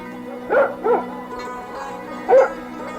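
A dog barks in short yips: two quick barks, a pause, then one more, close and fairly loud over a steady low hum with no talk.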